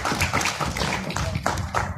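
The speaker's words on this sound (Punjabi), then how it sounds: "ਤਾੜੀਆਂ ਯਾਰ ਤਾੜੀਆਂ ਮਾਰਦੇ ਯਾਰ" Audience applause at a crop science seminar on potash fertilizer, a dense, steady patter of many hands clapping together, fairly close and continuous throughout.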